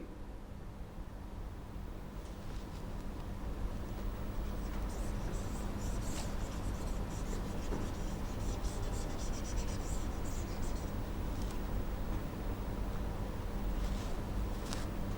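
Pen or marker scratching out writing on a surface during an online education lesson, a steady faint scraping with short bursts of strokes over constant background hiss, no talking.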